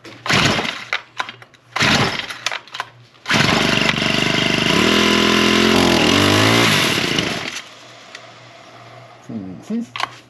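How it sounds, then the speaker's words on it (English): A small lawn tool engine at half choke sputters, then revs hard and loud for several seconds before dropping back to a rough idle, with brief talk around it. "We'll go half choke. And give it a little throttle."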